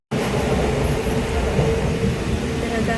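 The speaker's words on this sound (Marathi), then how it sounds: "तर आता आम्ही ट्रेन पकडली आणि चाललोय मुलुंडला" Local commuter train heading to Mulund, with a steady loud rumble of the moving carriage and wheels on rails throughout, plus faint background voices.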